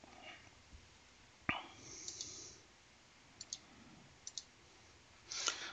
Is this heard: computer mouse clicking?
yes